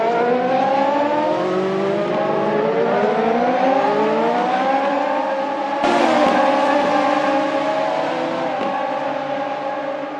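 Several Radical SR3 race cars racing at the Nordschleife, engines wailing loud and continuous with rising and falling pitch through gear changes, a sharper burst of revving about two-thirds through.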